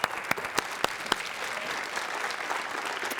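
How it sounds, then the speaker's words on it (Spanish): A television studio audience on a Spanish-language variety show breaks into applause, a few loud distinct claps at first, then settling into a steady even wash of clapping with no talk over it. "Aquí está con nosotros Pilar Montenegro, así que un gran aplauso para ella."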